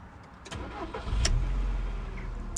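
A Volkswagen Beetle engine cranks and catches, then settles into a low steady idle close by, with a few sharp clicks over the rumble.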